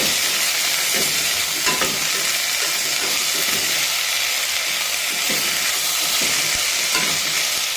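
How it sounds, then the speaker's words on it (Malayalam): Chopped tomatoes fry in a pan for a potato curry served with chapati or puri, giving a loud, continuous sizzle with steady scraping strokes of a spoon stirring them through. "അരിഞ്ഞു വെച്ചിരിക്കുന്ന തക്കാളിപ്പഴവും കൂടെ ചേർക്കുകയാണ് ഇളക്കി കൊടുക്കാം"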